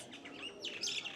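Small birds, likely pigeons, chirp in quick faint bursts in a village yard, building to brighter calls toward the end.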